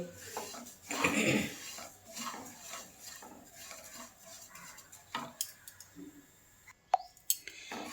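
Broken wheat (daliya) being dry-roasted and stirred in a pan for payesh, with scraping and clinking of a utensil against the metal in bursts, busiest near the start, then scattered sharper knocks later.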